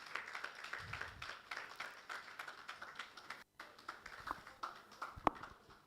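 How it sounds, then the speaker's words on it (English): Audience clapping fills the room as a partner is welcomed onstage at a women's business event, a steady, moderately distant round of applause with a brief dropout midway and a few sharper individual claps near the end. "please help me with a warm round of applause"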